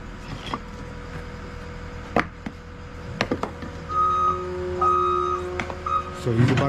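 A dump truck reverses on a landscaping and demolition job site, its backup beeper sounding a steady series of tones over engine rumble, with scattered clanks and thuds of work around it and some brief talk.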